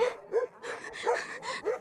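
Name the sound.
dogs barking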